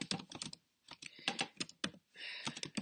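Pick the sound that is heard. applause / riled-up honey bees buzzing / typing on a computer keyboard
typing on a computer keyboard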